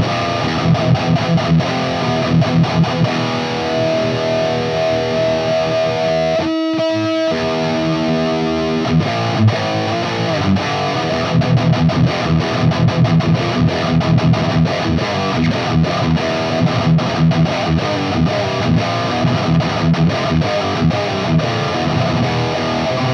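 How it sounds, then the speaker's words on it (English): Electric guitar, a Balaguer Typhon with a Seymour Duncan distortion pickup in the bridge, played through a Bogner Ecstasy 101B amp: loud, heavily distorted riffing and chords throughout, with one brief stop midway before the playing resumes. "Balaguer Typhon with the Seymour Duncan distortion in the bridge"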